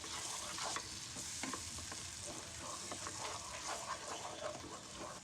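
Spices and finely chopped tomatoes frying in a pan for a dhaba-style potato curry, a steady dense sizzle with occasional stirring scrapes, close and continuous with no talking.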